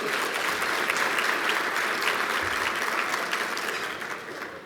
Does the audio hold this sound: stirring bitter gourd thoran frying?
no